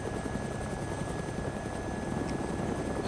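A helicopter in the video game DayZ gives off a steady, loud rotor roar with a constant engine whine throughout, and no one speaks over it.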